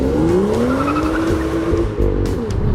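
A BMW M2 with the optional 7-speed dual-clutch automatic pulls away hard from a standstill, its engine note rising steadily and loud and close with a brief tire squeal, then dipping for a shift near the end before climbing again.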